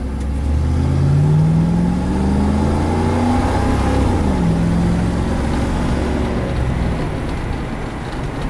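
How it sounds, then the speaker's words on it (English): A 1992 Pontiac Firebird's engine revs loudly and rises in pitch as the tires spin pulling out of a driveway, a close, continuous roar that holds and then eases slightly toward the end. "Cannot pull out of this driveway without spinning the tires."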